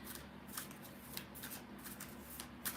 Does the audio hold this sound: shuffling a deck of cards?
yes